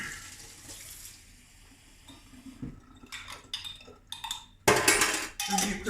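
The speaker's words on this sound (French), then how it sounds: "je vais rajouter un petit peu d'eau chaude pour émulsionner tout ça" Hot water poured into a small mason jar while mixing a cochineal treatment: a trickling, splashing pour with clinks of glass, growing louder and more turbulent in bursts toward the end.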